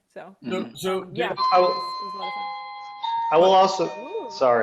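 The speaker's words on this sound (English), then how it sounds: "that's a doorbell." A doorbell chime rings out in a sustained electronic tone, holding steady for several seconds and sounding again partway through, mixed in with a person talking throughout.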